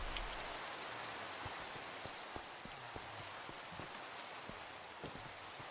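Steady rain falls in the Minecraft video game, a soft continuous hiss dotted with faint scattered drop ticks, no voices.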